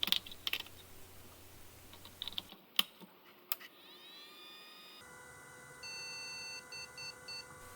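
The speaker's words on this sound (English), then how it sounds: "And there are some beep codes." Key clicks give way to a series of short electronic POST beep codes from an Asus P2B motherboard, some repeated in quick bursts, close and clear against a faint hum.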